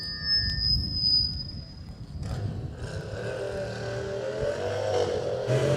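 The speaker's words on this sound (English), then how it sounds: "The motor's certainly sounding nice" A drag racing car engine runs loud and close at a drag strip event, holding a steady droning note, then building into a stronger rising rumble with a humming whine that carries on to the end.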